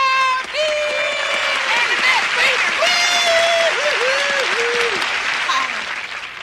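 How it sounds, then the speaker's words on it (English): An audience breaks into loud, sustained applause welcoming guest Bernadette Peters, while an energetic voice speaks over the clapping and it fades slightly toward the end. "let's have a big round of applause for Miss Bernadette Peters"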